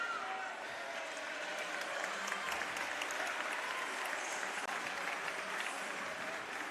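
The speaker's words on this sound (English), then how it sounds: "And a round of applause from all the fans in attendance." Applause from basketball fans in attendance at a high school game during an injury timeout in the fourth quarter, steady dense clapping and crowd noise filling the gym for several seconds, with an announcer talking over it.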